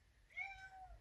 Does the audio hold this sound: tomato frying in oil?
no